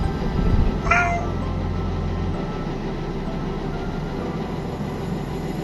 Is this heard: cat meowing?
yes